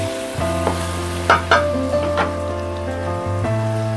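Chicken pieces drop into a pan of fried tomatoes for a chicken curry, setting off a steady sizzle with a few sharper crackles and stirring knocks over a constant low hum.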